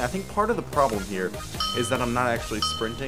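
A doorbell chimes faintly in the background indoors while someone talks continuously over it.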